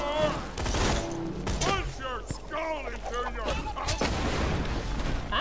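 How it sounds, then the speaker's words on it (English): Gunfire in the video game Borderlands 2 runs as scattered sharp shots and bursts under near-constant talking and game noise throughout. "I hear shooting."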